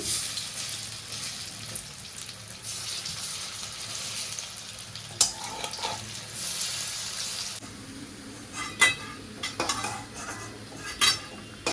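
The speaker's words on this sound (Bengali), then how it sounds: "পরোটা দেখো উল্টে দিচ্ছি" Paratha sizzles steadily in white oil in a pan, with scraping and metallic clinks as it is turned over and a few louder clatters near the end.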